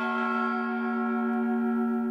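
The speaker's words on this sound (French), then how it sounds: "Pile sur le gong." A single sustained metallic ring like a struck gong or bell marking a segment's end, with a strong steady tone and bright overtones that hold evenly and fade only slightly, alone without speech.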